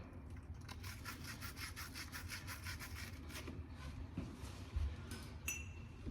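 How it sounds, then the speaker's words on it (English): A wire brush scrubs the inside of a copper pipe coupling during kitchen sink shut-off valve replacement, giving quick, even rasping strokes that are close and fairly quiet, then a few light metallic clinks. "Get our wire brush. We're gonna score the inside of that coupling."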